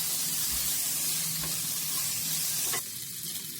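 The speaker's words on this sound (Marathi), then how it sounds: "त्याच्यातच कोथिंबीर टाकली मी, परतून घेतलं." Coriander leaves sautéing in a hot pan for katachi amti, with a loud, continuous hissing sizzle and occasional stirring scrapes close by.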